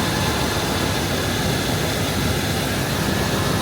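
A 2001 Chevrolet 3500HD truck's 8.1L 496 V8 engine idling, a loud, steady, broadband drone close by with no change in pitch.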